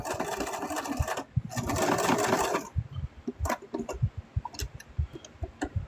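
A sewing machine stitches fabric for a small mouse plush, running in two steady whirring bursts close up, then giving way to a string of quieter clicks and taps as the fabric is adjusted.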